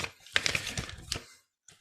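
Crinkly, rustling bursts of paper being crumpled close by, a few quick scrunches followed by a short pause and one last crackle.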